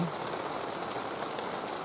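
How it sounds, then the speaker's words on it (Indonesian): Steady light rain falling at a campsite near a tent, a continuous even patter with no voices. "Ini sudah mulai hujan lagi."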